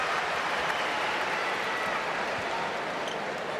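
Home crowd cheering and applauding at a United Cup tennis match in Australia, a dense, steady roar of clapping and cheers filling the whole stretch at constant loudness.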